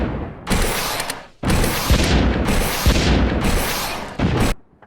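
Weapons fire in rapid bursts in the video game Stormworks, with dense booming volleys that rattle mechanically and repeat in three or four long stretches separated by brief gaps, loud and close.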